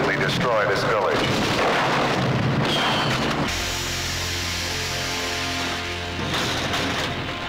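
Heavy gunfire and booming blasts from a 1982 action film trailer rumble loudly at first, then settle into a dense, lower roar with voices mixed underneath.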